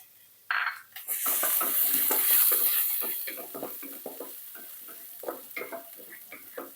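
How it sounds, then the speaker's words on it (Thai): Garlic drops into plenty of hot oil in a pan for stir-fried instant noodles with egg, bursting into a loud sizzle that settles into steady frying hiss, broken by scraping and clicking from stirring. "หลังจากนั้นค่ะใส่กระเทียมลงไปผัด"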